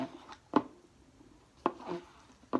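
Oobleck is mixed by hand with the fingers, giving a few soft, squelchy slaps and thuds at irregular intervals, close and fairly quiet.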